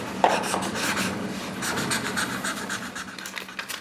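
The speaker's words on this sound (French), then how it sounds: "C'est le son que fait le feutre de Trump quand il signe des décrets." Felt-tip marker pen scratching across paper as decrees are signed, a close, dry rubbing scrawl in quick uneven strokes with short pauses, heard alone without voices.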